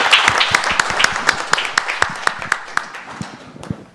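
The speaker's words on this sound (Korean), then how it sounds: "모든 분들께 큰 박수로 보내주시기 바랍니다" An audience at a regional development forum applauds the panelists, distinct rhythmic hand claps close by that gradually thin out and fade toward the end.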